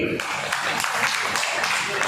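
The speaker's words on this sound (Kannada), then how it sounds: "ಜೋರಾಗಿ ಚಪ್ಪಾಳೆ ಪ್ರೋತ್ಸಾಹಿಸಿ ಮಕ್ಕಳಿಗೆ" Loud applause from a classroom crowd cheering students after prize winners are announced, a dense steady wash of many hands clapping for about two seconds.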